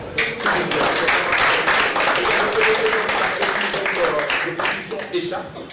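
A small gathering applauding during a visit to the studios of Burkina Faso's national television, RTB, with steady clapping throughout and voices talking over it.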